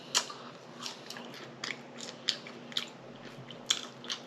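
Crunchy dinner food being bitten and chewed close to the mic at a mukbang meal, with sharp crisp crunches recurring every half second or so over a quiet background.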